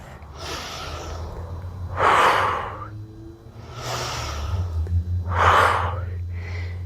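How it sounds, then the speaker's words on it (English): Heavy, deliberate breaths during a strength and mobility workout, alternating audible inhales and forceful exhales in a slow, even rhythm, close and loud over a low background hum. "Inhale, exhale."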